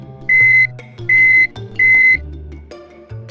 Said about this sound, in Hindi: मेटल डिटेक्टर दरवाजे से गुजरते समय मशीन बीप बीप की आवाज करती है